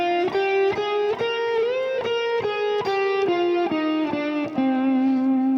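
An electric guitar with a distorted tone plays a C Aeolian natural minor scale, one note after another with even picked attacks, loud and up close.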